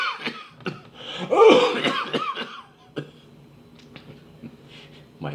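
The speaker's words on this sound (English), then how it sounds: "How long have you had that cough?" A series of harsh, hacking coughs, several in quick succession and fairly close, then a quieter stretch with faint breathing and a final short cough.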